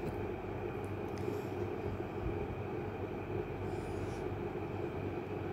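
A train standing at a station, its low continuous rumble and engine drone filling the scene at a steady level, with faint higher hiss and brief squeals drifting over it and no talk.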